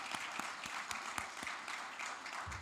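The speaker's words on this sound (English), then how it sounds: "I would like all of you all to give a round of applause to all the people over here." A closing-ceremony audience applauds a team, with faint, scattered clapping that sounds distant and thin throughout.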